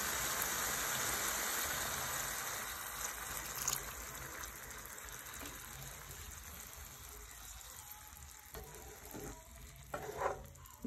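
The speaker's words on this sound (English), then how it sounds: "So let's first add in a cup of water." A cup of water is poured into a hot cooking pot, setting off a steady, close sizzling hiss that fades slightly over about ten seconds, with a few brief splashy bursts near the end and no talk.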